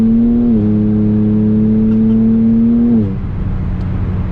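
Twin-turbo Kia Stinger engine pulling hard under acceleration, a steady loud drone from inside the car that holds a rising pitch, then drops as the revs fall near the end, with a faint whir over it.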